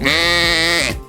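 A single sheep gives one clear, close bleat, a wavering nasal baa about a second long that fades at the end.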